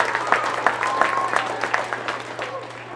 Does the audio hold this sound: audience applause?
yes